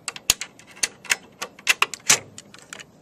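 A terminal card is removed from a Schneider ATV61/ATV71 variable speed drive, producing a series of sharp, close plastic clicks and snaps at an irregular pace, each brief and crisp, with no talking.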